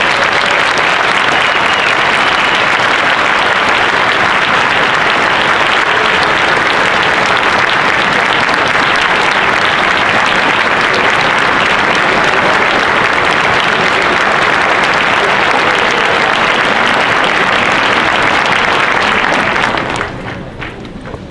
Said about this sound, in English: I think we owe these students another round of applause.